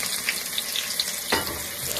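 A paste of onion, green chili, garlic and ginger hits hot oil in a pan for a prawn dish, giving a steady close hiss of frying with a brief stir partway through.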